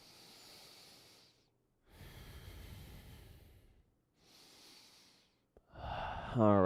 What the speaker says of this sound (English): The only thing that I request is that you come into tune with your breath